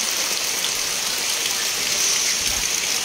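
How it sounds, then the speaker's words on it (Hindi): Rain falls steadily at night in Ghaziabad, a dense, even patter and hiss on surfaces that continues unbroken with no voices. "ये देखिए बारिश हो रहा है काफ़ी आराम से"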